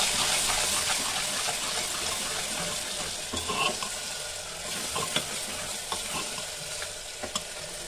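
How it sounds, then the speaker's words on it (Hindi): Onions and spice paste frying in a pan for chhole, a loud, continuous hissing sizzle close up, with occasional spatula taps and scrapes as it cooks. "प्याज फ्राई हो रहा है"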